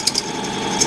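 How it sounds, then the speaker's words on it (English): A metal lathe cuts off a brass finial as a steady tool whine runs throughout, with a few sharp bright ticks near the start and end of the part-off. "turn this lathe off."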